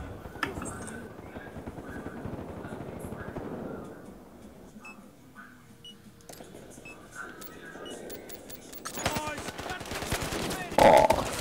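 Rapid bursts of automatic gunfire crackle in a Battlefield Hardline firefight, denser at the start and again near the end, with someone talking over the shooting.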